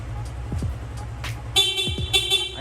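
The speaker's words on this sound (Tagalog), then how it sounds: "stock na busina." Stock horn on a Yamaha Sniper 155 motorcycle gives a loud, steady toot with a sustained tone after a few faint clicks, plus a second short blast near the end.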